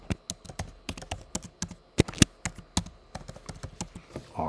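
Quick bursts of typing on a computer keyboard, crisp close-up key clicks in irregular runs with brief pauses, alone without talk.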